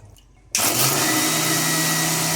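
A kitchen mixer grinder blends sesame, yogurt, salt and water into a paste, starting abruptly with a loud, steady high-pitched whir that runs unbroken to the end.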